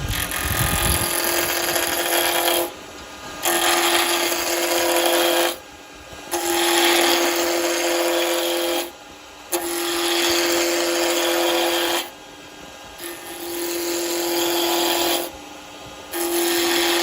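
Roughing down a wooden spindle blank for a Christmas tree on a lathe with a CarbiClip 2 carbide tool: loud, close, continuous rasping cuts in passes of about three seconds, separated by brief quieter pauses over a steady machine hum.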